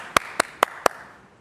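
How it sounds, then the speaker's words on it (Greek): Four crisp, evenly spaced hand claps ring out close and alone, quick and rhythmic, then fade into quiet. "Έτσι, χειροκροτήματα, χαμός"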